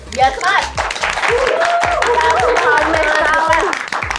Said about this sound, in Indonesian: aku minta tepuk tangannya dulu nih